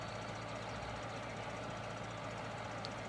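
A modded John Deere tractor engine in Farming Simulator 2013 idles with a steady, low, rumbling chug that stays even and continuous, with no talk over it.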